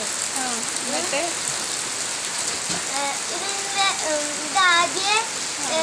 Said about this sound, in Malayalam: ഈ മഴ ഒരു രസകരമായ ഒരു മഴ